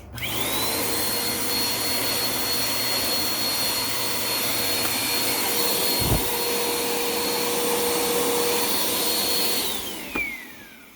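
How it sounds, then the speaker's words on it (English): A Bissell PowerForce/CleanView Compact upright vacuum cleaner with a broken belt runs with a steady high whine and roar, a brief thump midway, then winds down near the end. "I'm going to turn on the vacuum just to show you what is happening"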